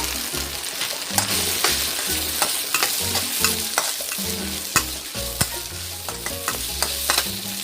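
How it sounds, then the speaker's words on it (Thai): Pieces of cut beef skin sizzle and fry in a hot pan while being stir-fried, with scraping and clattering knocks from the utensil throughout. "หลังจากนั้นก็หนังวัวที่เราหั่นไว้นะครับค่อยผัดเลย"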